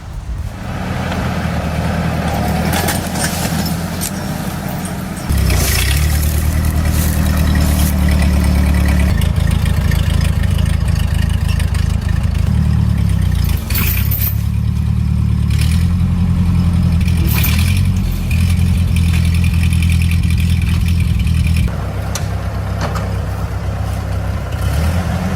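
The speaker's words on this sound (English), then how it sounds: "Still amazed by how these vintage tractors hold up." A vintage tractor engine idles loud and close, with a deep, steady chugging rumble that shifts slightly in pitch and intensity as the revs change, and no talking.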